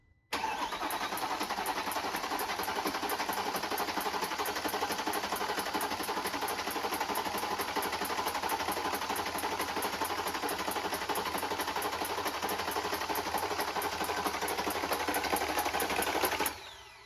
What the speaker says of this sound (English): I'm going to spin it over a few times to get oil throughout the motor.